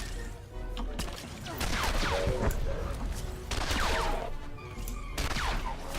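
Suppressive fire in Star Wars: The Old Republic, a dense sustained volley of blaster shots that rattles on for several seconds in loud bursts with short gaps. A voice speaks briefly over it.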